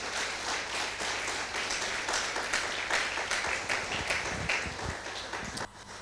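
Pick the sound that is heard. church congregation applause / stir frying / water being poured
church congregation applause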